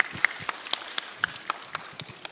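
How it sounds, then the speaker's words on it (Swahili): A small church congregation claps for a newly congratulated couple. The sparse, uneven claps pop out one at a time at moderate distance over a quiet room, with no voices. "Situwapigie makofi."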